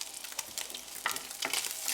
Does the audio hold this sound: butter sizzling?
yes